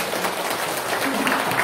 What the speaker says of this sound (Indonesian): terima kasih tepuk tangan untuk kita semua